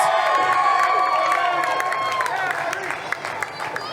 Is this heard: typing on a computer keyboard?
no